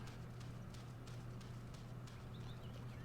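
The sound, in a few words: horse hooves clip-clopping up a mountain in video game Go Vacation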